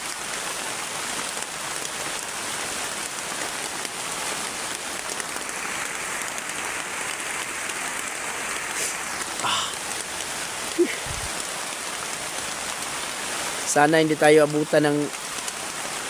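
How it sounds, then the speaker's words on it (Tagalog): Heavy rain pounds down in a constant, loud wash of hiss and patter throughout, with a voice briefly speaking near the end. "Sobrang lakas po ng ulan mga lods. Grabe yung ulan."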